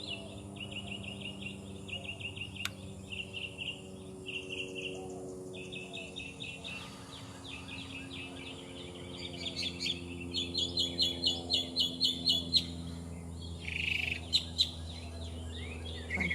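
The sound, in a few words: birds chirping and singing outdoors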